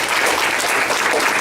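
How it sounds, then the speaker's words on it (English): An audience at a TRiO Day celebration breaks into dense, loud, continuous applause that fills the whole short stretch with a steady wash of clapping. "so give her a round of applause for that."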